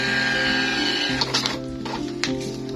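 An Iware iW200 thermal mini printer, fitted with a replacement thermal head, prints a test page. It gives a steady, close, loud mechanical whir with tonal buzzing and a few clicks near the end, with no other sound over it.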